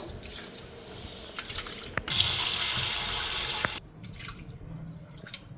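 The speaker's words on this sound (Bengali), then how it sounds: "চালটা ধুয়ে নিতেছি" Rice is washed under a running tap at a kitchen sink: a steady stream of water that swells into a louder rush for a couple of seconds, with drips, splashes and small knocks of a pot.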